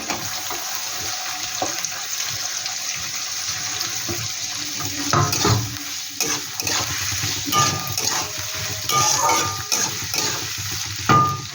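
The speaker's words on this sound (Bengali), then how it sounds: "পেঁয়াজগুলো সম্পূর্ণ আমি ভেজে নিচ্ছি" Onions fry in oil with whole garam masala in a wok, giving a steady sizzle under repeated scraping and stirring with a utensil.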